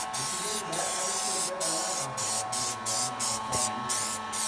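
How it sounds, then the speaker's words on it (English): Short hissing bursts from an aerosol spray can coating a wheel rim, several quick spritzes in an uneven rhythm, loud and close. "So you want to go around in a nice motion with little spritz and bursts"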